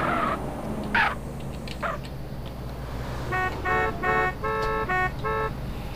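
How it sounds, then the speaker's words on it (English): AI traffic in GTA San Andreas honking car horns, several short bursts and a run of repeated toots in quick succession, with a few other brief street sounds before them, all moderately loud. "these AI, they just honk their horns just for no reason at all"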